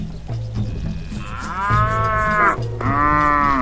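A cow moos twice in the god game Black & White 2, with long, loud, drawn-out lowing calls over steady game ambience and music.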